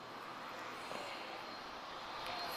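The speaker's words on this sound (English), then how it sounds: "737-800 arriving from London Stansted" A Ryanair Boeing 737-800 arrives at Lisbon Airport, heard as a steady, distant engine roar of fairly low level with no break across the short stretch.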